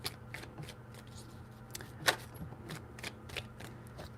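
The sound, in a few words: shuffling tarot cards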